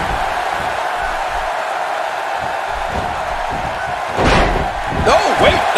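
A steady arena crowd roars throughout a WWE wrestling video game match between Roman Reigns and The Rock, with heavy slams and thuds landing near the end and commentary voices over the top.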